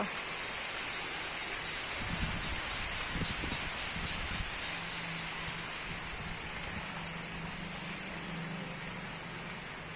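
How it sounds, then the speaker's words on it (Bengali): Steady rain hisses down without pause, a dense even wash of sound, with a few low thumps and a faint hum partway through. "দেখতে সুন্দর আবার দেখো বৃষ্টি পড়তেছে"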